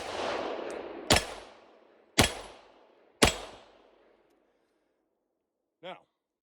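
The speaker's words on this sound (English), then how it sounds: "Now, safety off, 4 shots." Three sharp, loud gunshots from an Astra 9mm pistol crack out about a second apart, each with a decaying echo. A faint short sound follows later, and the shots open over a noisy background.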